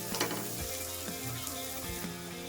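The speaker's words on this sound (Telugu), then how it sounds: "ఈ ముక్కల్ని మనం ఇందులో వేసేసుకోవాలి బటర్లో వేసుకొని వేయించుకోవాలి" Paneer pieces fry in butter in a pan, a soft continuous sizzle with occasional stirring scrapes and light clinks, close but quiet.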